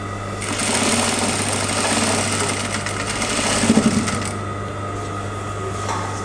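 A sewing machine stitching the side seam of a skirt, a loud, close, continuous motor hum with a fast needle rattle that runs for several seconds, then eases off near the end.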